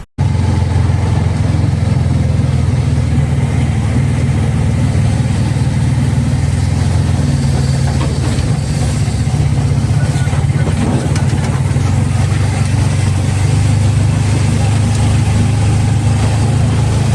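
A tempo truck engine idles in a steady, loud low rumble that holds throughout, with faint background voices.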